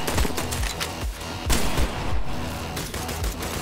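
Loud, punchy gunfire from the video game I Am Your Beast, several close shots in quick irregular succession over a dense game soundtrack.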